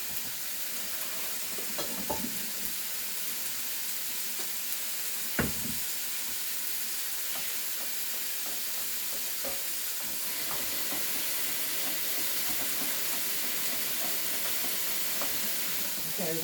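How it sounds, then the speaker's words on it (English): Boiled ramen pasta drains into a sink in a steady, continuous hiss of rushing water, with a few clinks and knocks partway through. "Then I'm going to drain the pasta."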